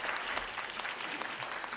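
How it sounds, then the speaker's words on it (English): Audience applause at a university presidential candidates' debate, a brief stretch of dense, even clapping from a seated crowd heard at moderate distance. "So let's give them a big round of applause."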